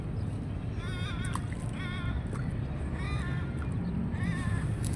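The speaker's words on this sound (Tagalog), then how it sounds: "Tawanan ako ng ibon." Beside water during a fishing outing, a bird gives repeated rising, laughing-like call phrases in several bursts, heard moderately over steady background noise.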